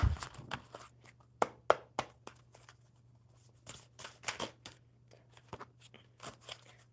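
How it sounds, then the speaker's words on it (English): Tarot cards are shuffled by hand in quick irregular bursts of crisp riffling and snapping flicks, close and fairly quiet, over a low steady electrical hum. "one more good shuffle, Rishu."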